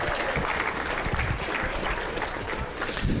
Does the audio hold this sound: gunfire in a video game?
no